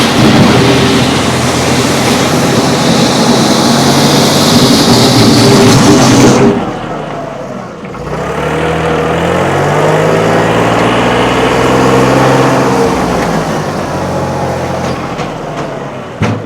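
A John Deere 3033R compact tractor's diesel engine roars and rumbles continuously up close as its front loader works, with a brief dip in the middle before the heavy running sound resumes.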